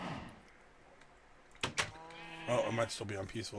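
Sheep bleating in a blocky building video game, a couple of short nasal bleats near the end, partly under a person talking.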